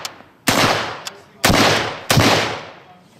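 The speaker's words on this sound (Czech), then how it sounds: "První dva náboje jsou subsonické s tlumičem a druhé supersonické." V-AR rifle fired with a suppressor using subsonic .223/.300 rounds: three sharp, loud reports spaced about a second apart, each followed by a decaying echo, with a faint click before the first.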